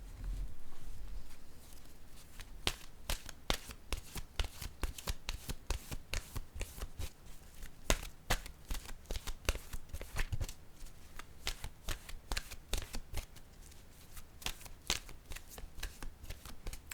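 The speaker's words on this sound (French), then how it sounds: "je vais piger maintenant une carte de mon oracle de l'âme intuitive" Oracle cards riffle and slap in a steady rapid patter during a shuffle before one is drawn, close and fairly quiet, running continuously with brief pauses.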